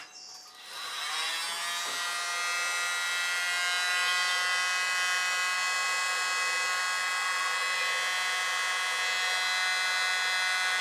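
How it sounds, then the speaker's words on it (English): A small blow dryer blows steadily across fluid acrylic paint for a contemporary pour, a continuous whining hum that starts abruptly and holds loud and close with no talk. "And where's my smaller blower?"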